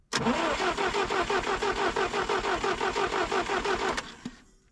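A GAZ-69 engine cranks and catches, running with a rapid rhythmic chug for about four seconds before cutting off abruptly. Close and loud, no voices.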